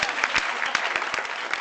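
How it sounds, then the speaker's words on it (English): Audience applause at a show-business event, heard as a short burst of scattered, moderately loud hand claps with separate distinct strikes rather than a full roar. "Hold for applause, it says here."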